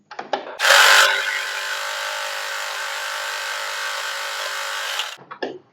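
Sewing machine stitching a blouse lining: a few light clicks, then a steady whirring run of about four and a half seconds that stops abruptly, followed by more brief mechanical clicks.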